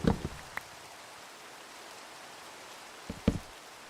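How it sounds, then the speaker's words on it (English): Rain falls in the video game Minecraft, in a Skyblock world, as a soft, steady hiss under a few scattered clicks and light knocks near the start and end; no speech. "Just in time for the rain, too."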